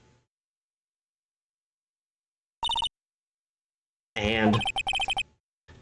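A telephone ring sounds in the Phoenix Wright: Ace Attorney - Justice For All video game, heard once as a short, clear electronic burst on near silence, followed by a person talking.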